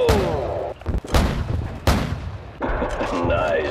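Video game gunfire and explosive booms from a Modern Warfare battlefield mission, with dense repeated shots and heavy blasts stacked close together over a sustained roar, mixed with game radio voices.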